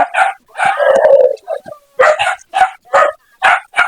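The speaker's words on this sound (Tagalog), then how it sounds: "mas marami pala aso dito." Several dogs bark repeatedly in quick, uneven bursts nearby, with a short yelping howl in the middle; loud and close.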